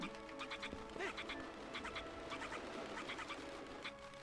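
Cuccos, the chickens of The Legend of Zelda: Twilight Princess, give a string of short, bright clucks in quick bursts over a quiet game background, with no talk.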